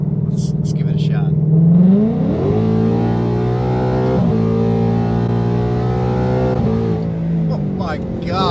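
A 2019 Mustang GT with CORSA exhaust and new headers accelerating at wide open throttle, its loud engine note rising steadily through several gear changes, close and sustained.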